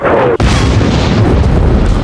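Explosions from tank fire erupting around fleeing characters, a sharp, loud boom followed by a heavy rumbling blast that rolls on close by.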